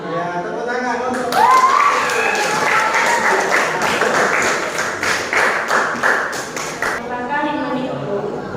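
A group of students applauds at an Indonesian school presentation on faith, a steady wash of clapping with a few shouts and cheers that rises suddenly and stops after several seconds.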